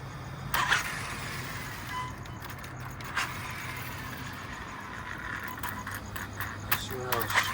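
A BMW E30 car engine runs as a low, steady hum beneath people talking, with clinks and jangling metal handling sounds close by.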